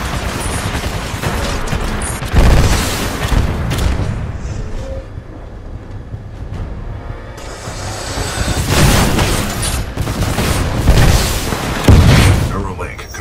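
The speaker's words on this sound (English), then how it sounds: "This shoulder-mounted rocket pod will lock onto multiple enemy targets" In Titanfall 2, an Acolyte shoulder-mounted rocket pod fires heavy booming volleys and rattling bursts, with loud surges that rise and fall amid combat noise. A voice speaks over it.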